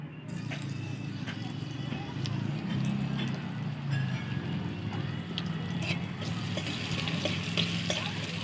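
Garlic paste fries in a pan for a mixed mung and masoor dal, giving a soft, steady sizzle with scattered light taps and scrapes of stirring, fairly quiet overall.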